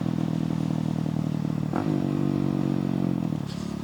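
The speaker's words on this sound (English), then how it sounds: "There's nothing better than a bike like this to downshift on." A 250cc motorcycle being ridden and downshifted, its engine droning steadily with a brief clunk and shift in pitch partway through, then a short rise near the end, loud and close with no talk.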